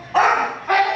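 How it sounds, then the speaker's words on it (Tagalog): Two sharp, loud barks from a nearby dog, the second following about half a second after the first. "habang nag-iingay yung aso"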